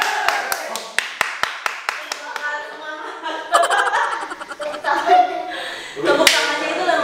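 Crisp hand claps come first in an evenly spaced series and then break into looser bursts as people on a behind-the-scenes music shoot chat and laugh close by.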